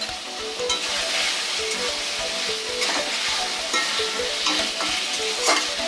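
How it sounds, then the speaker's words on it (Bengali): Chilli chicken being stirred with tomato sauce in a frying pan, a steady sizzle with repeated scraping strokes of the spatula, close and continuous throughout. "এভাবে টমেটো সস দিয়ে নাড়তে থাকবো"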